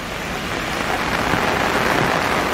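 Heavy rain pours down steadily and loudly on an early morning hike near Wong Lung Hang, a dense unbroken hiss with no voices.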